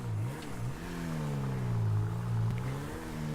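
Overflod Entity supercar in a video game driving slowly, a steady mid-pitched engine drone rising and falling gently with throttle, close and continuous with no talk.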